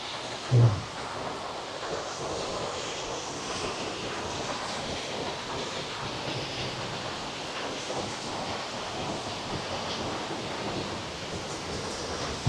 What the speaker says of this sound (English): This is the Sheela waterfall.